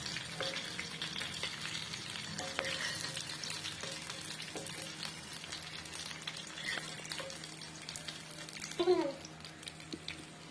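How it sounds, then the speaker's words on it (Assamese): Fish pieces frying in hot oil in a pan for a fish curry, a soft steady sizzle with light stirring and a brief louder clatter near the end. "মাছকেইপিচ ৰঙা পৰালৈকে ভাজি ল'লোঁ"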